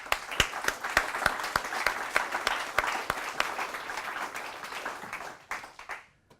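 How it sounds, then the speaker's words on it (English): Applause from a conference audience, individual claps crisp and clearly separated at first, then merging into a dense, steady patter that fades out near the end. "Let's all give Susan a round of applause."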